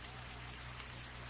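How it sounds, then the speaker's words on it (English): Steady rain patters on roof shingles in a broad, even hiss, continuous and moderately loud with no distinct drops standing out, and no talk over it. "Oh, listen to that rain."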